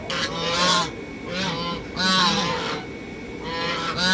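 Geese honk loudly at a freezing farm pond, four or five harsh, nasal calls in quick bursts close to the microphone.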